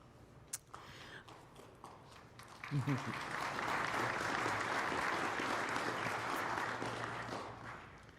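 Audience at a cryptographers' panel breaks into applause, a broad clapping wash that swells in after a few quiet seconds and stays dense and fairly distant to the end, with a brief voice near the beginning.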